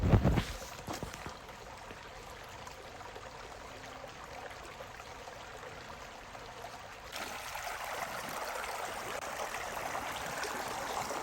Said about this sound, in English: enjoy the sounds of the creek as you make your way through this trail